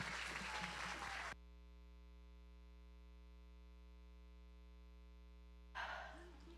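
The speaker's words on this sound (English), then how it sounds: "let's give her a round of applause" Applause for a presenter at a CCA senior projects event: a brief burst of clapping at the very start cuts off into a steady electrical hum, and a short swell of noise returns at the end.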